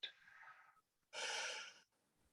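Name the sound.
slow deep breathing in and out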